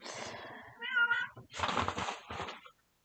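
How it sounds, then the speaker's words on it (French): A cat meows several times in quick succession, loud and close, with drawn-out, whiny calls and short pauses between them; no one speaks. "elle a dû voir une bête et elle miaule"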